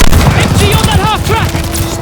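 Machine gun fire from a half-track in a Call of Duty: Vanguard battle, a steady rattling burst of rapid shots with booming low rumble underneath, mixed with shouted voices throughout.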